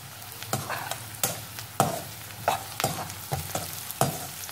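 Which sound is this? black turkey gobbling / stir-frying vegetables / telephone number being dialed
stir-frying vegetables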